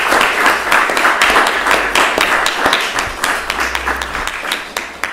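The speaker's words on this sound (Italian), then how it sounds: "Un applauso." An audience at an Italian book presentation breaks into applause, a dense, fairly close crowd of claps that thins slightly toward the end.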